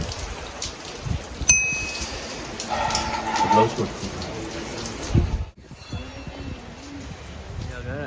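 Heavy rain pours steadily during a visit to the Muktheshwar temple, a dense hiss that fills the first five seconds and then suddenly thins, with faint voices and brief bird calls mixed in.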